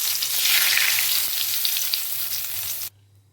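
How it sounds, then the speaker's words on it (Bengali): Whole cumin seeds, dried red chillies and bay leaves dropped into hot oil, a loud bright continuous sizzle and crackle that fills almost three seconds, then cuts off abruptly into near silence. "তেল গরম হয়ে গেছে। এখন আমি ফোড়নের জন্য এর মধ্যে দিয়ে দিয়েছি গোটা জিরে, শুকনো লঙ্কা আর তেজপাতা।"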